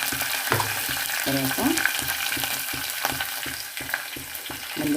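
Cardamom and curry leaves frying in hot oil for carrot upma, a steady crackling sizzle with repeated stirring scrapes in a regular rhythm, close and moderately loud, with a brief spoken word.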